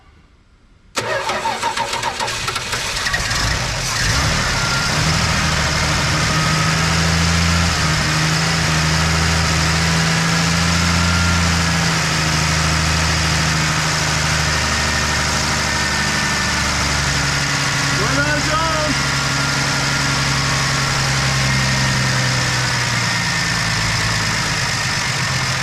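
A 1980 Dodge D100 pickup engine cranks and catches, then runs steadily with a low, uneven rumble that rises and falls, close and loud with no talking.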